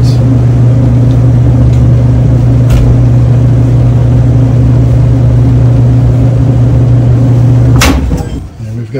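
A Samsung clothes dryer runs with its blower after a T5 error repair, giving a steady, loud mechanical hum and whir that carries on evenly before stopping abruptly near the end.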